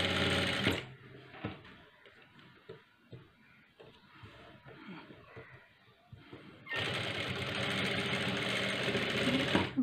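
A sewing machine stitches a blouse sleeve in two loud, close, steady runs, a short one at the start and a longer one at the end, with quiet fabric handling and faint sounds in between.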